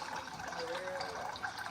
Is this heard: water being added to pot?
yes